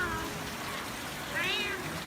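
A couple of thin, high meows from kittens over a low background hiss, one near the start and a clearer one toward the end.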